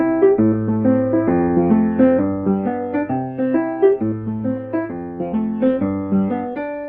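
A piano plays a simple song in short, detached rhythmic notes with a held bass line, close and clear, with no talking.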